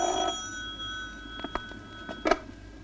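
A telephone rings in a 1988 Indonesian drama, with a burst at the start and then short bright rings spaced irregularly over a low steady background hum, fairly faint and with no talk.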